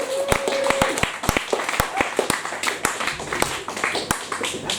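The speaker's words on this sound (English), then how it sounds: "Put your hands together. Let's clap." A comedy club audience claps at a stand-up night, a loose scattering of sharp individual claps rather than full applause, close and uneven, with a voice talking faintly underneath.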